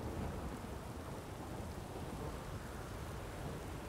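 A thunderstorm in the game Witcher 3 gives a steady, even wash of heavy rain with a low rumble beneath, unchanging and without voices.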